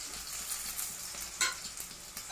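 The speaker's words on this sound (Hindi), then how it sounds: "इसमें हम लोग प्याज डाल दिए, देख सकते हैं ये फ्राई हो रहा है" Onion, chili and garlic fry in a pan for a saag of drumstick leaves, giving a steady, close sizzle with a brief louder crackle partway through.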